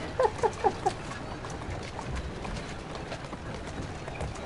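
A carriage horse's hooves clip-clop on a street in Assassin's Creed Syndicate, four quick distinct hoofbeats near the start, then a steady mixed game ambience.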